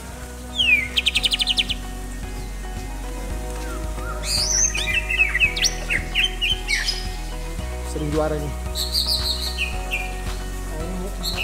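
A young oriental magpie-robin sings in quick bursts of bright chirps and trills, close and clear, among other caged songbirds, with people talking over it.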